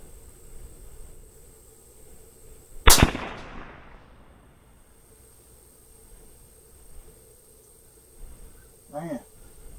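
A single .308 rifle shot cracks out during hunting ammo testing, one loud, sharp report with a short ringing decay, followed by quiet outdoor air and a faint voice afterward.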